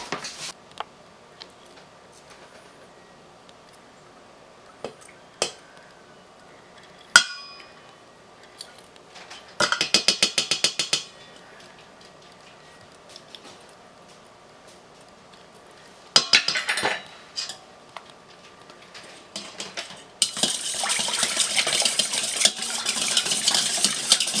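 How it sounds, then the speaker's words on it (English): A spatula scrapes thick honey elderberry syrup from a pot in intermittent bursts of metallic clinking and scraping, separated by quieter pauses, with a longer, louder stretch of scraping at the end; nobody speaks. "I'm going to get a spatula and get the rest of this out of here."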